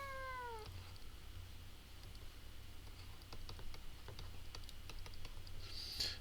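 A cat gives one short, clear meow near the start, then scattered clicks of typing on a computer keyboard follow in a quiet room, with a faint high squeak at the end.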